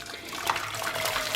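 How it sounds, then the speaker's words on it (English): Water poured into a cooking pan for stuffed sweet red peppers, a short continuous splashing rush, close and steady, with no voices. "I'm just going to pour the water in."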